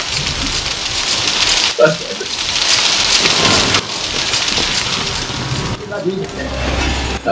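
Steady rain pours indoors inside a building in the horror video game Outlast, a loud continuous wash with brief thunder-like rumbles, while someone talks over it.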